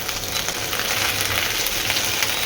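Okra and potato fry with onion in a pan, giving a steady, loud hiss and sizzle throughout with no pauses. No one speaks.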